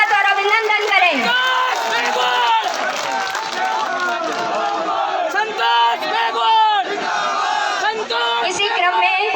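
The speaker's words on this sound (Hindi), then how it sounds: "ऐसी हमारी यशस्वी प्रधान संतोष जी मेघवाल का जोरदार तालियों के साथ स्वागत और अभिनंदन करें।" Large crowd at an outdoor political rally cheering and whooping in welcome, a loud sustained mass of shouts and voices with some clapping mixed in.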